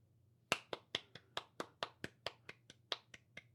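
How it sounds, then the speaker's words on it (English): A few people clap in an uneven round of applause on a podcast, about fourteen sharp, well-spaced claps, close and fairly quiet, with a low hum underneath and no talking. "Let's give them all a round of applause"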